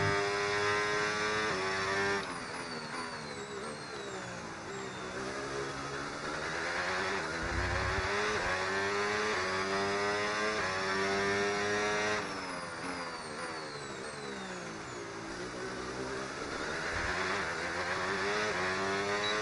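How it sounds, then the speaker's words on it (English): An F1 car in the racing video game F1 26 revs hard and stutters as it pulls out of corners, the engine note rising and cutting repeatedly in loud continuous bursts with no talk. "Is the engine meant to stutter out of corners, or is that traction control?"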